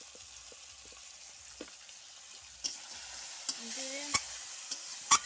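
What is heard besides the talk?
spices being fried and stirred in oil with turmeric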